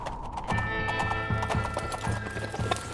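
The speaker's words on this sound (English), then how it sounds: "Clippity-clop, galloping horses." A galloping horses clip-clop sound effect, regular rhythmic hoofbeats thudding in a quick repeating pattern, close and prominent, with a high ringing tone layered over them.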